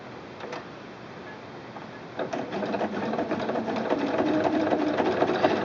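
A Singer SQ 9960 sewing machine begins stitching after a quiet start, its rapid, even ticking growing louder and denser as the needle runs steadily up close.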